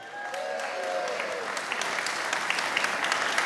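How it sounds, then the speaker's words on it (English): An audience at the British Blues Awards 2013 breaks into applause that swells from a faint start into full, dense clapping with a few sharper claps standing out near the end. "Let's give them all a big round of applause."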